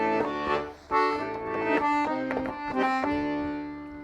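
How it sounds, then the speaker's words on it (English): Klezmer, Eastern European Jewish music: a lively melodic instrumental passage with expressive, bending lead notes over chords, moderately loud with phrases rising and dipping. "klezmer music is Eastern European Jewish music, and it sounds like this"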